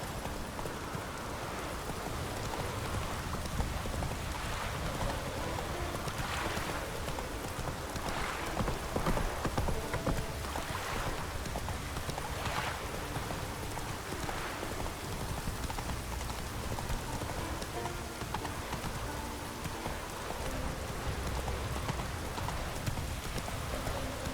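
Horse hooves clip-clop steadily in an even trotting rhythm through constant rain in The Witcher 3, close and moderately loud, with the rain hiss filling the background throughout.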